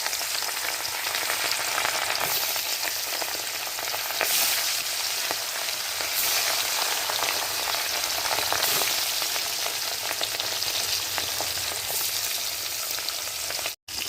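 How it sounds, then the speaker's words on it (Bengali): Fish pieces frying in hot oil in a kadai give a steady, dense sizzle that holds for the whole stretch, close and loud, with no voices over it. "একটা একটা করে মাছ ভেজে নেব।"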